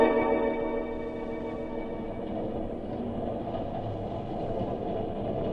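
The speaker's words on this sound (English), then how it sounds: "I sat still while the train rocked along" Steady low rumble of a train rocking along the rails for a radio drama effect, with a continuous hum and faint clickety-clack, loud and close, no voices over it.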